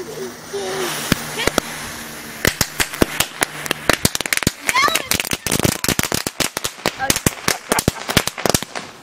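Rapid, irregular crackling pops from a crackling firework fountain, sharp bursts clustering and thickening over several seconds, with people talking and a whistle-like squeal early on.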